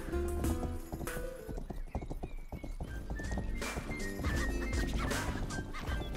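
Horse galloping in the video game Rustler, a rapid continuous clip-clop of hooves with an occasional whinny, loud and close over busy game music and effects.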